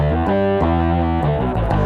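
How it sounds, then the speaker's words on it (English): A bass guitar through a harmonic distortion effect, which distorts only the upper harmonics, plays a short run of sustained notes, its tone buzzing with gritty upper overtones. "So what it does is it distorts just the harmonics, the upper parts of the tone"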